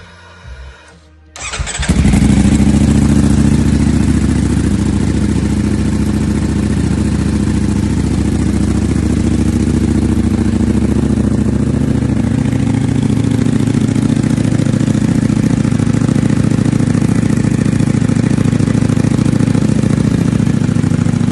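A 2021 Ducati Panigale V4S fitted with a full titanium Akrapovic exhaust cranks and fires up with a sharp bark, then settles into a loud, deep, steady idle that runs close and continuous.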